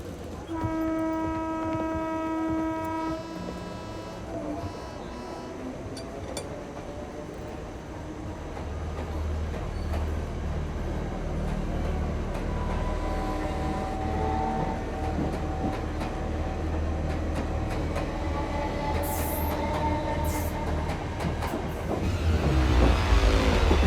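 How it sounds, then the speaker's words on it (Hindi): A fast train pulls into a railway platform, opening with a loud, sustained horn, then a steady, growing rumble and rattle of wheels and carriages that swells near the end. "पोखरी को जाने वाली फास्ट ट्रेन प्लेटफॉर्म नंबर 4 पर आ चुकी है"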